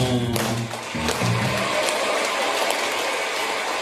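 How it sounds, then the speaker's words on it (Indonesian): Teachers at a workshop session clap together in a dense, continuous round of applause, close and steady throughout, with a brief voice at the very start. "Oke, tepuk tangan Bapak Ibu semuanya."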